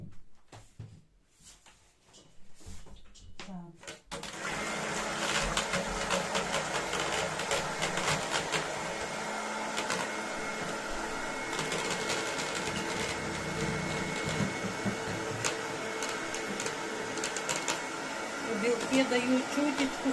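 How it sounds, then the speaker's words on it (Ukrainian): An electric mixer whips egg whites in a kitchen, starting after a few seconds of quiet clatter and then running as a steady, loud whirring drone to the end, with a voice talking over it. "Збиваємо білки."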